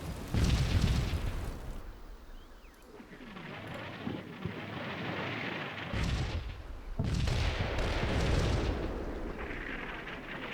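An artillery barrage rolls through a Combat Mission Cold War battle, heavy booming impacts and rumbling blasts arriving in waves, some close and loud, others distant and muffled.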